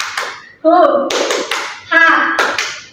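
Students in a micro-teaching class perform the 'tepuk semangat' clapping chant, sharp rhythmic hand claps mixed with loud group chanting voices in short bursts, close by.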